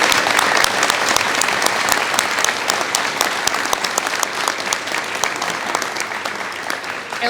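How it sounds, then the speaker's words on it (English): An audience at a college commencement ceremony applauds a guest pianist, dense steady clapping that fills the hall throughout without a break. "if we could clap for Elsie Larson"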